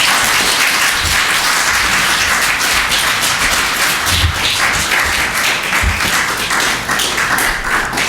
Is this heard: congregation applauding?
yes